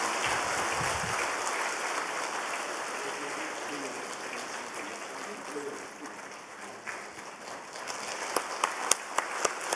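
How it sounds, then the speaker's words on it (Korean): Warm applause from a church congregation during a Sunday service, a broad steady wash of clapping that slowly thins out, with a few louder isolated claps near the end. "뜨거운 박수로 우리 축하하도록 하십시다"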